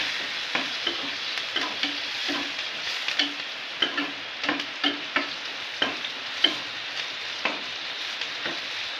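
Vegetables being stirred with a spoon in a sizzling pan, with a steady fry hiss and regular scraping clicks of the spoon against the pan, close and clear with no talk.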